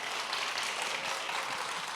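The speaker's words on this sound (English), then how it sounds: "Everybody give these first-timers a big round of applause." An audience at a morning Atlanta event gives a round of applause, a dense, steady wash of clapping heard at a distance and fairly faint throughout, with no talking over it.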